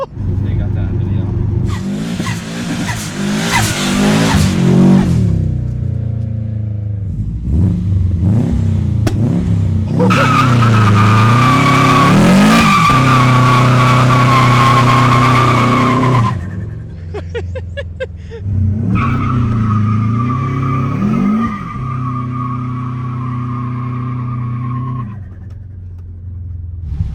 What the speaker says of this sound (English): or a bunch of neighbors can see me doing a burnout in my driveway